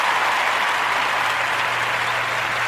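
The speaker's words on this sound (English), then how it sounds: "Another round of applause," A crowd claps in a dense, steady burst of applause that stays loud and even from start to finish.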